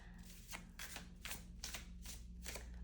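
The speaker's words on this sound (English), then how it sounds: "This is a lot of shuffling." Tarot cards are shuffled by hand close up in a quiet room, with about six riffling bursts in a steady rhythm over a faint low hum.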